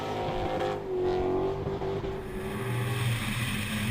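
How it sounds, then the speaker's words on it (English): Drift car engines roar and rev loudly and continuously downhill, one engine's pitch sliding steadily, including a Nissan S14A, like cars racing close by. "As they go down the hill, Mark Looney extending that gap massively"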